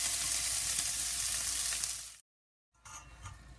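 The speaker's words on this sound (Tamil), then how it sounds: "ஒரு ஆனியன் கட் பண்ணி வச்சுருக்கேன், அதையும் போட்டு சாட்டே பண்ணிக்கிறேன்." Chopped onion sautés in a pan over cumin seeds for a Tamil-style soya chunk biryani, a loud continuous sizzle that drops out to silence and then resumes more faintly.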